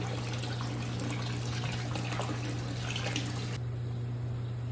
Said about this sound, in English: Next, you want to add your phytoplankton to the bucket